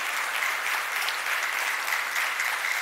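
A crowd at an organic farming and soil health care talk in Sangli bursts into steady, loud applause that fills the whole stretch, dense and continuous with no voices over it.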